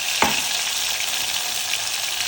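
Tomatoes, garlic and green chillies hit hot oil in a steady, loud, close sizzle that holds evenly throughout, opening with a single brief clink of a utensil; no one speaks.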